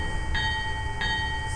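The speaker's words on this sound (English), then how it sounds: "This is a Northern Line train via Charing Cross" A London Underground Northern Line train at Golders Green, on the way to Kennington, gives a steady mechanical hum with a constant tonal whine, and two bright chime-like tones ring out about a second apart.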